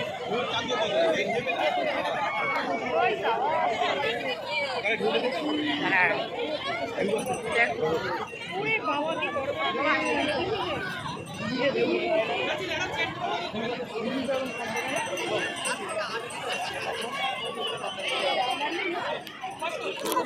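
A dense crowd at a busy fair in Puri chatters steadily. Many overlapping voices form a continuous babble, with occasional laughs rising above it.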